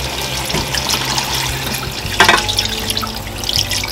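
Water running and splashing onto meat in a pot while a Haitian-style gumbo (okra) sauce is made, a steady close pouring wash with a brief louder splash in the middle and low kitchen hum beneath.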